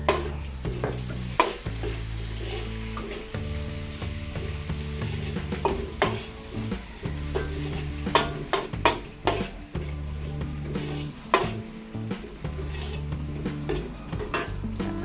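Onions sautéing in a pan for a Filipino dish, a soft sizzle under frequent metallic clanks and scrapes of a spatula stirring against the pan, close and irregular, with no talk.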